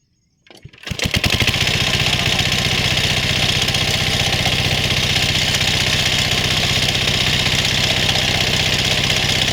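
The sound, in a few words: diesel water pump engine running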